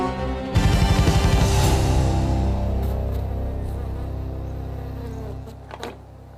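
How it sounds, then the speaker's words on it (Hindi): Bees buzzing loudly from a box in a Hindi TV crime drama, a dense droning swarm that starts suddenly and holds steady before tapering, close and alone. "इस बॉक्स में दुनिया की सबसे खतरनाक मधुमक्खी हैं।"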